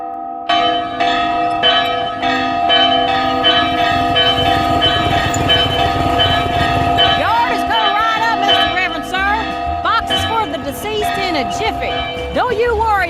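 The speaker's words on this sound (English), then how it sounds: "I'm positive it's used to ring the bell on the roof." Bell ringing from a church rooftop in the adventure game Runaway 3: A Twist of Fate, with sustained tolling tones under a continuous music and ambience bed, and a voice speaking over it.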